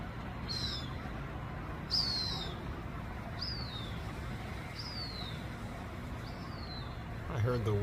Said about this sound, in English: Got a couple hawks back here.